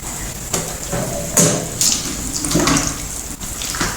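Water gushes steadily from a siphon tube draining a catfish tank into a container, a continuous close splashing flow with a few louder surges.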